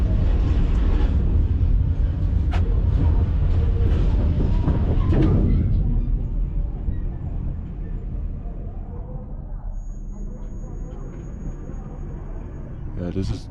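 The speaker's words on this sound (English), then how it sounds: "There are some more trains here." Heavy rumbling of train cars rolling through a rail yard, loud at first then easing into a quieter mechanical drone with a faint high whine.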